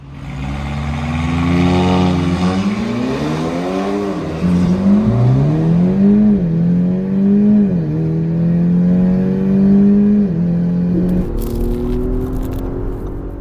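Two Audi SUVs, a Stage 3 tuned Q5 and an SQ5, accelerating hard in a drag race, engines roaring loudly with rising pitch that drops at each gear shift, repeated several times before fading.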